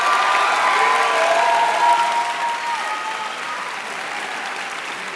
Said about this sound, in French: Est-ce qu'on peut l'applaudir déjà pour ça ?